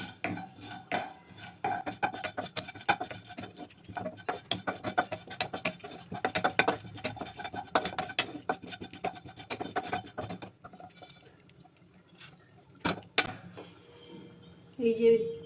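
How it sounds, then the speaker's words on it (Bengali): Whole cumin seeds dry-roasting in a hot, dry kadai, with scraping and clinking of a metal spoon against the pan at close range, a faint crackle beneath, and speech heard over it. "এই যে অল্প করে একটু জিরে ভেজে নেব শুকনো কড়াইতেই ভেজে নিতে হবে"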